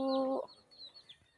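A chicken lets out a short, loud cluck close by, followed by faint chirps and soft background noise from a backyard flock of young chickens.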